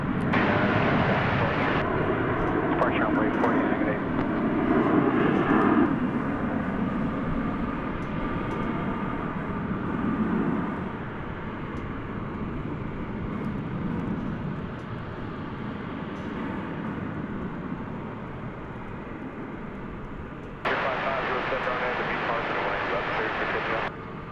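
A Frontier airliner taking off from runway 18 left at DFW at night, a broad steady engine roar over about twenty seconds, with a tower controller's radio voice talking over it.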